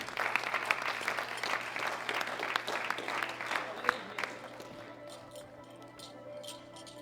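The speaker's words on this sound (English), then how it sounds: "Big round of applause to these three ladies." A crowd applauds at a junior women's world powerlifting championship, a fairly faint, dense clatter of clapping that thins out toward the end, leaving sparse claps over a steady hum.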